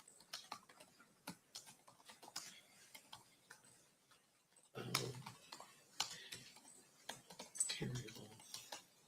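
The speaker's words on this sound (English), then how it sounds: "I'm still typing that" Computer keyboard typing in a courtroom during a murder trial, irregular bursts of light clicking keys, fairly faint, with a few muffled thumps partway through and no clear talk.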